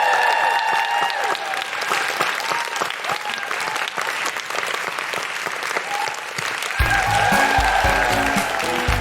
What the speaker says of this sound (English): Big round of applause for the incredible Daisy Haggard